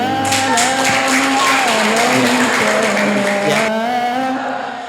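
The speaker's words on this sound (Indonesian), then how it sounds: "Tepuk tangan." Dense, steady clapping from a school audience at a Maulid Nabi celebration, loud and close, with a tonal hum running underneath. It fades out near the end.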